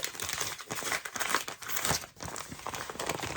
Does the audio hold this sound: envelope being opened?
yes